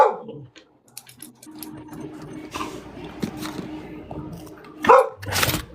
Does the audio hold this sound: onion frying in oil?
no